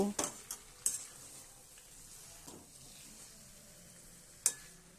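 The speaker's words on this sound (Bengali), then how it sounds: "চিনি দিয়ে তরকারিটাকে আবারও খুব ভালো করে মিশিয়ে নেব।" A spoon stirs a curry of Hilsa fish head and Malabar spinach with sugar added, giving soft scraping and a faint sizzle. A few sharper clinks against the pot stand out, with no voices.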